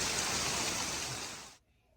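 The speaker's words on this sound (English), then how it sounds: "A storm in June with hail. Hail in the storm." June hail falls in a dense, steady hiss of ice pellets striking outdoor surfaces, loud and continuous before cutting off abruptly near the end.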